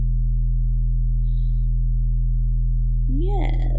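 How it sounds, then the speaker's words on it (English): Hollow bass patch from the Logic ES2 synthesizer playing a straight, steady tone, a sustained low hum with stacked harmonics, followed near the end by a brief rising chirp-like sweep. "I went with hollow bass just because sounds like this."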